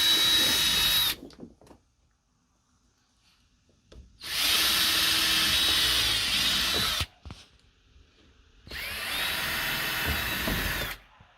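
A power drill bores pilot holes into wood in three bursts of a few seconds each, whining at high speed with pauses between, close up and without talk.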